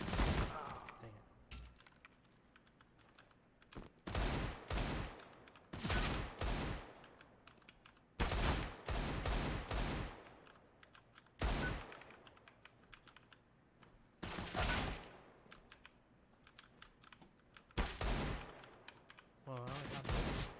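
Bursts of gunfire from free-fire shooting practice in a video game, loud volleys spaced a few seconds apart with quieter gaps between them.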